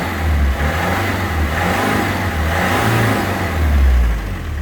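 An old diesel engine in a 1996 Land Rover Defender 90 revs up and settles back repeatedly, a rough, low mechanical roar rising and falling close by.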